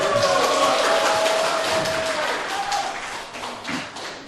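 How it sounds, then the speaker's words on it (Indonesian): Visitors in a courtroom applaud, heard as a sustained patter of many hands clapping that fades slightly toward the end, with faint murmuring underneath. "alangkah baiknya kita nggak usah tepuk tangan"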